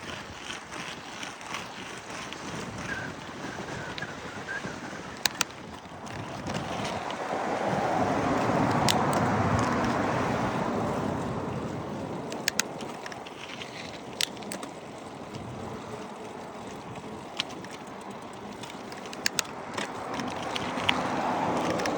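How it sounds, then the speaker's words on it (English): Strong wind rushes over the microphone during a steep downhill ride through Butte and Walkerville, a continuous broadband roar that swells louder midway, with a few sharp clicks and knocks. "That wind hits you hard this way."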